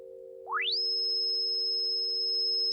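Pure electronic test tones from several sources sound steadily together, one held low pitch beneath while another sweeps quickly upward to a high, piercing steady whistle that holds loud and constant to the end.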